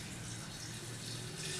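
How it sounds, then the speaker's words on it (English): Warm water pours steadily into a jar of dry pinto beans, a continuous close rushing splash with no break from start to finish. "So now when we have these in here, we're going to pour in our warm water"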